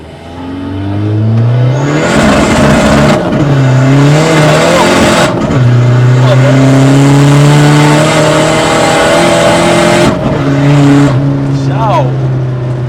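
A modified Seat Ibiza 6K2 PD diesel car accelerating hard through the gears, its loud engine roar climbing repeatedly with sharp breaks at each shift as the turbo kicks in, heard from inside the car.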